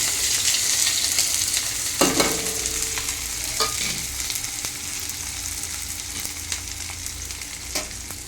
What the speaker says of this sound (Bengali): তাই প্রথমে তেলের পরে পেঁয়াজটা দিয়ে দেবো